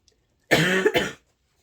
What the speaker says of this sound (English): I've had a bit of a cough.